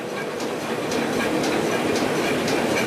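An envelope printing press runs loud and steady in a print shop room, giving a dense mechanical roar with rhythmic clacking about twice a second, alone with no voices.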